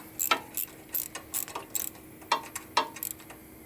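A hand socket ratchet clicks on the engine of a 2011 Harley-Davidson Road Glide twin cam, giving about ten crisp, close clicking strokes at a steady, uneven pace.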